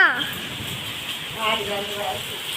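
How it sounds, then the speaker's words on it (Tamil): Heavy rain falls in May, a steady broadband hiss of downpour on surfaces that runs through the whole stretch while a person talks over it. "பாருங்கப்பா எவ்வளோ மழை மே மாதத்தில் மழை"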